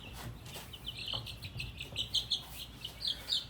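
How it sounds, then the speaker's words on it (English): High, repeated peeps from a batch of young chicks, faint and scattered in irregular bursts over a low background rumble. "this is a good batch of chicks"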